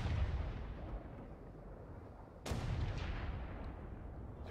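A ship's cannon fires bar shot during a brig battle in the game Atlas: a heavy boom opens, a second sharp blast lands midway, and each rolls into a long rumbling decay with no talk.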